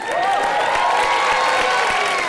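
The studio audience of the Hindi comedy show Comedy Nights Bachao breaks into loud applause and cheering for Deepika, a thick and sustained roar of clapping that stays even and close throughout.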